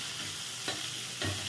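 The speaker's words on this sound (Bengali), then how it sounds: "এটা একটু ভেজে নিচ্ছি" Chopped ginger, coconut and peanuts sizzle in oil in a pan, a soft steady frying hiss broken by two brief stirring scrapes.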